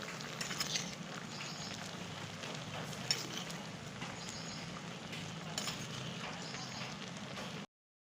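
Cooked spinach aviyal is stirred in a pan in a steady, close sizzling and scraping wash with faint clinks of the utensil against the pan. The sound runs continuously and then cuts off abruptly.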